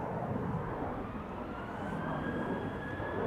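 A KLM Boeing 737-800 airliner departing Amsterdam Schiphol roars steadily at a distance, a continuous broad jet rumble with a faint rising whine, no voices.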